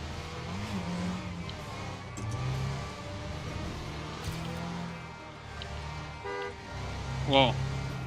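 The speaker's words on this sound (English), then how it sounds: "You heard the car horn?" Car horn honks in the racing video game Trackmania, a short bright beep near the end over steady engine drone and game music, with someone talking throughout.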